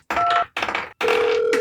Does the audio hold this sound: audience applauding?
no